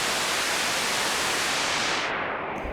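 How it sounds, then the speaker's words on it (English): An Erica Synths Das Kleine Fusion modular synthesizer puts out loud, steady, full-band white noise. It hisses evenly with no variation until the top end drops away near the end. "And it is a nice white noise."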